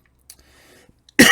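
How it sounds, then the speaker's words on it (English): A single sharp, loud cough bursts out close to the microphone after a near-silent pause with a few faint clicks and breaths. "sorry about the coughing."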